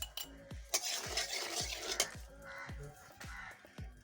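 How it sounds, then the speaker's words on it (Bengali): Eggs are stirred and fried in oil with turmeric and salt for Bengali dim kosha. A metal spoon scrapes and clinks against the pan in quick strokes while faint sizzling runs underneath, close by. "খুদের ভাত দিয়ে ডিম কষা ভালো করে একটু ভেজে নিচ্ছি।"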